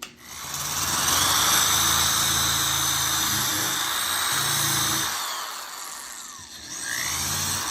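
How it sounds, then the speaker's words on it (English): A power drill with a countersink bit deepens a screw hole in wood on a dresser base, giving a steady, loud whine that holds for several seconds, then eases off briefly before spinning up again. "I'm going to put a countersink bit in to countersink it deeper for that, so the screw will sit down inside of there"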